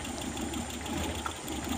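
A car engine idles roughly and unevenly with one spark plug cap pulled off, near and steady, its uneven pulsing close to stalling, with no talk.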